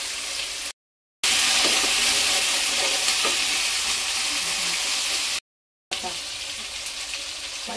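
Dry red chillies and onion sizzle loudly in hot oil for sambar dal, a dense continuous frying hiss close to the pan, broken by two brief silent gaps.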